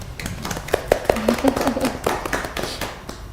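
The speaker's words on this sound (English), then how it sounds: "Can you please clap for yourselves?" Scattered, fairly quiet clapping rises from a conference audience applauding themselves, with sharp individual claps standing out under a speaking voice.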